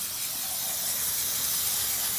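Aerosol MAF cleaner sprayed onto a dirty mass airflow sensor from a car being prepped for a drift event, a continuous bright hissing spray held steadily close by with no pauses.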